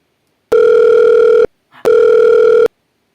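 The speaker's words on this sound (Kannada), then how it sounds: "ಈಗ ಒಟ್ಟ ನೆಕ್ಸ್ಟ್ ಫೋನ್ ಹಾಕಿ ಹಚ್ತೀನಿ" A phone call ringback tone, two loud, clean electronic tone bursts of about a second each separated by a short gap, with nothing else around them.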